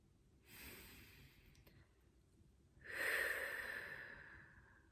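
Slow, deliberate breaths during a guided grounding exercise: a soft inhale through the nose, a pause, then a longer, louder exhale through the mouth, close and alone.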